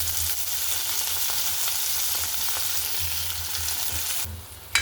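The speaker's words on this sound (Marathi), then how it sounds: "तर 2 मिनटं आपल्याला हे परतूनच घ्यायचं आहे" Chopped tomatoes and browned onion sauté in a hot pan for chana masala, giving a continuous close sizzle that ends with a brief knock.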